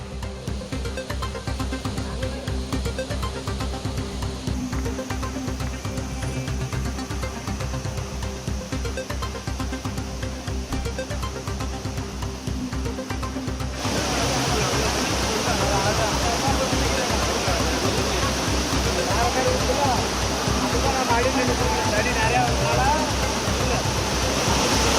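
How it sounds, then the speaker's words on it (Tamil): The Courtallam waterfalls in Tenkasi district thunder in flood after sudden heavy rain, a continuous, loud roar of crashing water that swells even louder partway through. "குற்றால அருவிகளில் வெள்ளப்பெருக்கு"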